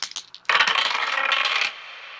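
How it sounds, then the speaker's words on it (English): Dice clatter across a hard surface, a few light taps followed by a short bright rattling roll that settles and fades, close and alone. "I roll the dice to figure out where she ended up."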